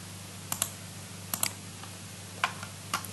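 Keys on a computer keyboard are pressed to copy with Ctrl C, giving a few faint, sharp clicks in pairs spread across a quiet background hum.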